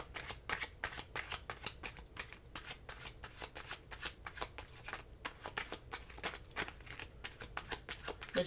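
Tarot cards are shuffled quickly and repeatedly, producing a rhythmic string of crisp riffling flicks, close and soft, with no talk over it.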